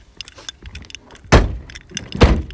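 Two solid car doors slam shut on a stationary car, each a loud, close thud, separated by about a second, with light rattling and handling noises in between.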